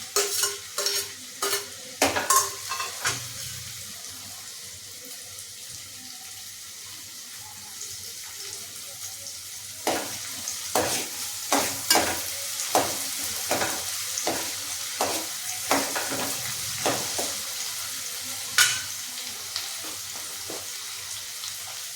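Chopped onion and garlic fry in hot oil in a pan for a Marathi vegetable dish, with a steady sizzle and repeated sharp clicks and scrapes of a spoon stirring, in dense clusters at the start and again later, with no voices.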